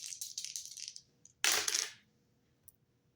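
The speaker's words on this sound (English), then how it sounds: "rolling the dice to see what I need to shuffle a deck to." Dice rattling and clattering as they are rolled and come to rest, with a burst of tumbling followed by a loud scatter and a single small tap afterward, close and alone.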